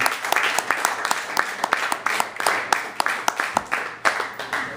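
Audience clapping steadily at a spoken word poetry show as a poet is brought to the mic, a dense stream of hand claps with scattered voices underneath.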